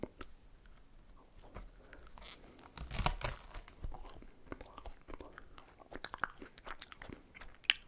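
Close, crisp bites and crunchy chewing of food in an ASMR role-play, with crackling tears and crinkles, one louder crunching burst midway and soft whispering between.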